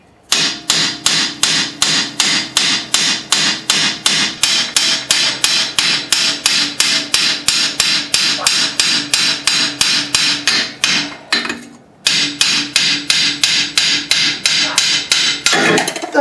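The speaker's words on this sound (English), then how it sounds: "Now this is freely loose and you can start hammering." A hammer strikes the loose brake parts on a VW Golf Mk4 in a fast, steady series of loud metallic blows, close up, with one brief pause midway and no talk.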